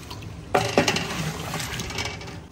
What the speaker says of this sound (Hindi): और 4 से 5 मिनट भूनने के बाद इसमें पानी डालेंगे।